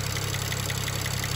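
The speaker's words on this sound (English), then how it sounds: "a ticking noise coming from the engine" A BMW 335i N54 engine idles steadily up close, a low rumble with a faint, rapid ticking pulse from failing fuel injectors running through it.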